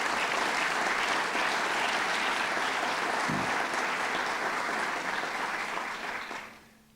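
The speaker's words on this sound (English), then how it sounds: "Let's give them a round of applause." A large audience at a public event on a commission investigating public corruption claps in a full, steady burst for several seconds, then the applause trails off quickly at the end.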